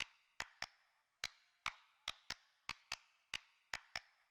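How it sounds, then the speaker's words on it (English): Single hand claps recorded dry and close into a microphone, about a dozen sharp isolated smacks at an uneven pace with silence between them. "the next thing that is super important are just the claps"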